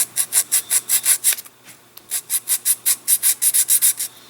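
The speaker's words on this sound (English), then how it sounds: "just start sanding away" Rhythmic back-and-forth sanding strokes with a small sanding tool on balsa wing ribs of a Ripmax/Keil Kraft Senator model airplane, close and crisp, a steady run of strokes broken by a short pause before resuming at the same pace.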